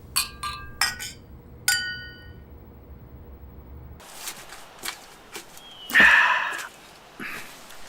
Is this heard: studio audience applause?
no